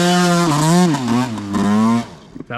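A dirt bike engine revs loudly and close with the clutch slipping, a strong rising and falling whine that holds for about two seconds before dropping off.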